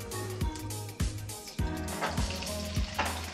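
White cooking wine sizzles in a pan of melted butter and olive oil for brown trout. A steady frying hiss runs throughout, punctuated by several sharp clacks and scrapes of a utensil against the pan over a low hum.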